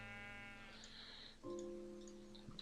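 Sheep in the video game Minecraft bleat in two short, wavering calls, one after the other, quiet against a faint background hum.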